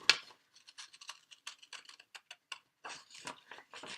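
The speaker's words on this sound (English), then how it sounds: "Take my scissors out carefully, turn the piece of paper over, scissors back in, line it up like that" Scissors snipping through a piece of paper laid over white paper, a quick series of small crisp cuts and clicks, close and quiet, with short pauses between snips.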